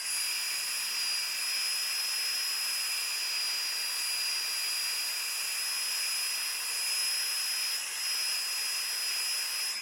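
A heat gun blows hot air to melt embossing powder on vellum for paper flowers, producing a steady, loud, unbroken fan roar with a high whine that runs without pause.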